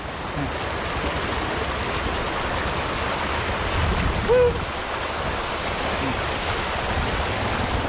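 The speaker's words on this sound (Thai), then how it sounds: "ตรงนี้ก็น้ำตกก็จะไหลไปไหลไปข้างล่างไปตรงนู้น" A waterfall stream in Khiri Wong, southern Thailand, rushes downhill in the early rainy season, a loud steady broadband roar of flowing water with a faint brief tone in the middle.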